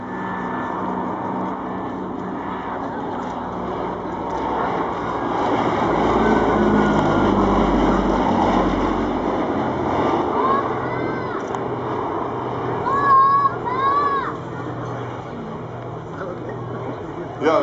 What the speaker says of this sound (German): Im Moment ist diese P-38 Lightning die einzig fliegende in Europa.